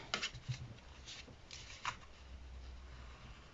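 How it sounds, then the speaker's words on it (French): Glued paper tabs on a homemade phone stand are peeled back apart, giving a few faint, short crackly rustles and soft scrapes spread over a few seconds with nothing else around them. "Je redécolle ce que j'ai collé pour pouvoir coller mes deux grandes languettes"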